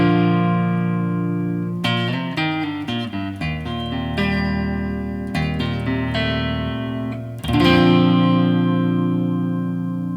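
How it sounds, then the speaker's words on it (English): Electric guitar plays the low part of a song's instrumental, with ringing chords and picked notes in a steady rhythm, loud and close with effects and reverb, no talking. "So a pretty nice guitar part."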